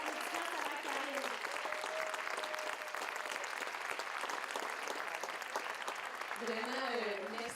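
Sustained applause from an audience at a fashion show, thanking the organiser, dense and continuous throughout with a few voices and cheers mixed in near the end.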